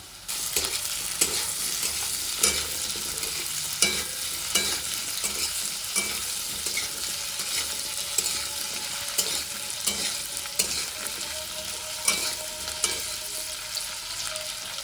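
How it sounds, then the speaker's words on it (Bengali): Cut potatoes fry in a pan with a continuous sizzle, broken by repeated scraping and stirring strokes from a utensil at an uneven rhythm, close and moderately loud throughout with no talking. "কেটে রাখা আলুগুলো আমি এর মধ্যে অ্যাড করে একটু ফ্রাই করে নেব।"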